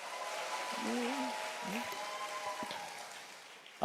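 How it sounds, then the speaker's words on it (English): A large audience applauds in honor of Chairman Hangil Park, a soft, continuous hiss of distant clapping spread across a big hall, with a voice speaking faintly over it and a louder burst at the very end. "let's give him a big round of applause"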